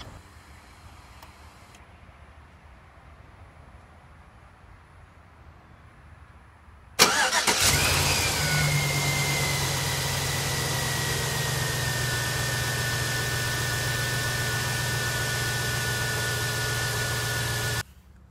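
A GM 5.3L V8 cranks and fires with a sudden loud catch, then settles into a steady, even idle that runs for about ten seconds before shutting off, following a quiet stretch of faint shop noise.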